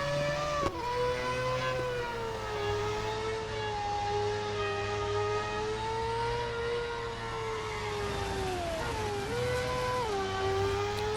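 A Mazda 787B race car engine in Real Racing 3 wails at a high sustained pitch, holding a steady whine with slight dips and rises as it runs, loud and alone without talk.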